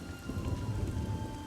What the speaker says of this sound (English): How did you bring the rain?